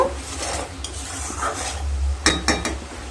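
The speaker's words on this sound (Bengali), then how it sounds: "এবার মশলাগুলোকে খুব ভালোভাবে কষিয়ে নেব।" Spices for a vegetarian yam curry being stirred in a pan, a spoon scraping and clinking against the metal in short strokes, with a faint sizzle underneath and a few sharper clatters near the end.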